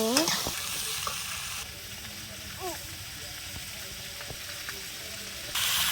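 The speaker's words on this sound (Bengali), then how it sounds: "নাড়াচাড়া করে আলুটা কষিয়ে নেব" Potato pieces stir-fried in oil with previously fried onion, salt, turmeric and chilli powder, a steady close sizzle broken by scraping stirs, with faint tonal sounds in the background.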